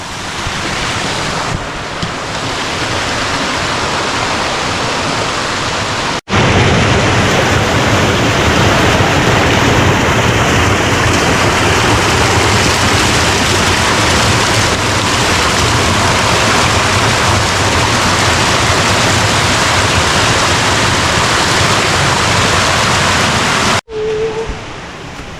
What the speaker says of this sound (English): All these beautiful little waterfalls.